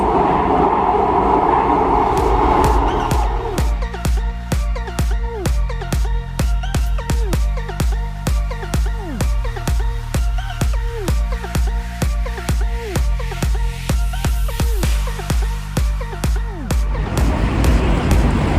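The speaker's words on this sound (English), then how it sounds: "this metro is underground metro, so it makes a lot of noise" An underground metro train in Warsaw rumbles and clatters loudly, with rhythmic wheel beats over rail joints and a rising electric whine as it runs through the tunnel.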